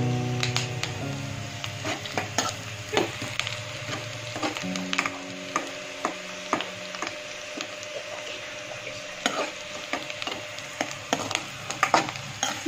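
Prawns fry in a pan for a curry, a steady soft sizzle with scattered clinks and scrapes of a spoon stirring against the pan, close by and without talk.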